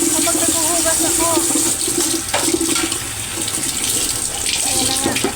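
Tap water runs steadily into a sink during dishwashing, a close, continuous splashing hiss with clinks and a bit of background voice and birdsong.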